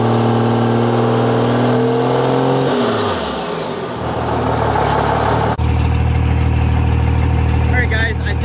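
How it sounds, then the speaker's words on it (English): A car engine runs in drive with its rear wheels jacked off the ground, a loud steady drone that shifts pitch downward midway before settling into a harsher, constant hum as the gear appears to change. "We'll go ahead and put it back in drive and see if it'll actually click into the next gear"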